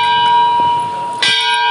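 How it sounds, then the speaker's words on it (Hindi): A large metal temple bell struck at Durgiana Temple in Amritsar, loud and close, with a long ringing sustained tone and a second strike partway through that renews the shimmer. "यहाँ पे काफ़ी बड़ा घंटा या घंटी कह लीजिए, काफ़ी बड़ा था यहाँ पे।"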